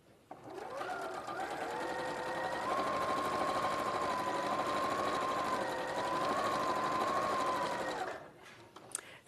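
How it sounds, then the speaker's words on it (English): A domestic sewing machine runs steadily for about seven seconds as it top stitches along a folded fabric panel, a close, even motor whir with a rapid needle patter that starts and stops cleanly. "I'm going to top stitch along the fold."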